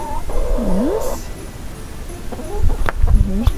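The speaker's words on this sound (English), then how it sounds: "Here's the chickens." Hens clucking in a backyard coop where fresh eggs are collected, a few short bird calls and low clucks close by over a soft outdoor hiss.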